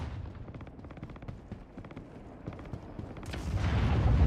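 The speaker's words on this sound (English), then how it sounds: "I can hear gunfire, lads." Gunfire in the video game Star Citizen, a steady stream of sharp, rapid shots at moderate distance that swells louder and denser toward the end.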